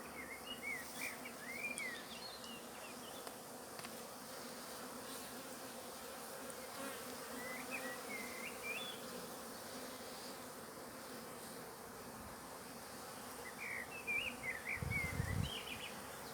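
Steady insect buzzing from many honeybees at a hive fills the background, with occasional louder passes of individual bees flying close by.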